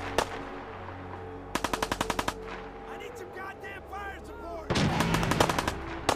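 Automatic and single gunfire from the video game Fallout 4 in two loud rapid bursts with a mixed firefight between them, close and sharp over a steady game ambience.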